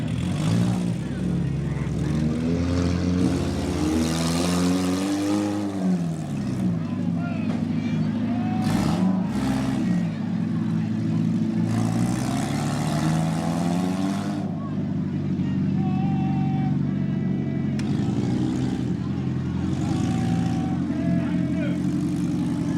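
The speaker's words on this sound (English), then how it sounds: "cars in action looking for the top three" Demolition derby cars at a Venango County, Pennsylvania fair roar continuously with loud revving engines, sharp crash bangs and metal impacts punctuating the din, while an announcer talks over the arena noise.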